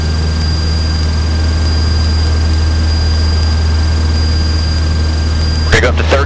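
Propeller engine of a light training airplane in flight, a loud steady low drone with constant whining tones heard from the cockpit, and a voice breaks in briefly at the very end.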